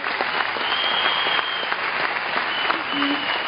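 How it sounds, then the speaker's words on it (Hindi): An audience breaks into steady, vigorous applause, many hands clapping together at an even level for several seconds, with a faint voice briefly audible beneath. "मैं चाहता हूं कि आप लोग अपने लिए एक जोरदार ताली बजाएं सब लोग उनके।"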